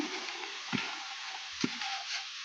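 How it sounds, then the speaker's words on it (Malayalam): Beetroot tipped into a pan of frying ginger and garlic for beetroot pickle, giving a steady soft sizzle with three sharp knocks of a spoon against the pan, fairly close and quiet, with no talk. "അപ്പോൾ നമുക്കിനി ഈ ബീട്രൂട്ടിനെ ഇതിനകത്തോട്ട് ഇടാൻ പോവാണ്"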